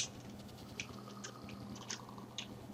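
Repeated crisp crunching bites in Minecraft, like chewing something crunchy, spaced irregularly and fairly faint against a low steady background hum.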